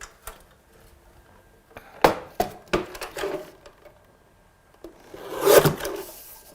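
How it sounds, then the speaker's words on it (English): Card trimmed on a paper guillotine at a craft desk, a few sharp close clacks and slicing thuds in the middle, then a louder swishing cut near the end. "So I'm just going to trim this side of the green with my guillotine."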